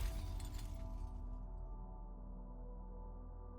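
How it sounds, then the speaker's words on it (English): Glass bottles shattering, a sharp crash with bright tinkling fragments in the first second that quickly fades, leaving a low steady hum beneath. "there's the sound of glass breaking"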